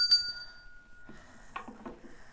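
A small novelty bell engraved "ring for a beer", a Christmas gift, is struck once with a bright ringing tone that decays slowly, followed by soft clinks and rustling handling noises close by.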